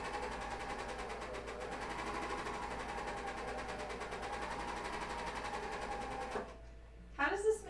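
A coverstitch sewing machine runs steadily for about six seconds while stitching thick fabric, giving a fairly quiet, even mechanical whir before it stops and a brief sound follows.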